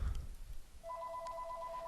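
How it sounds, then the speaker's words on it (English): A phone ringtone chirps in a steady electronic tone that starts partway through and holds, fairly faint against a low background rumble. "Let me see, my phone is ringing."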